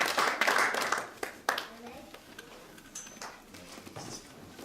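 Church congregation clapping and cheering in praise of God, a burst of mixed claps and voices in a reverberant hall that fades quickly into a few scattered claps and murmurs.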